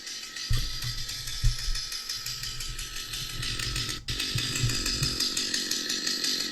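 A Warhammer 40k Sisters of Battle cosplay chainsword prop plays its stationary idle effect, a loud, continuous rattling chainsaw-like engine drone that runs steadily with a brief cut-out partway through.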